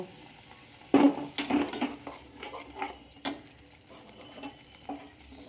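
A poppy seed, mustard and coconut paste going into a hot pan with pointed gourd, with a spoon clattering against the pan, scattered stirring knocks and a soft sizzle underneath.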